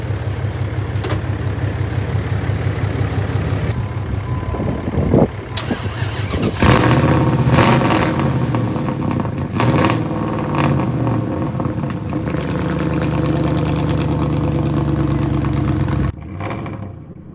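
A car engine runs after its battery has been jump-started, a loud steady idle close by that rises into a rougher, fuller roar partway through and then cuts off abruptly near the end.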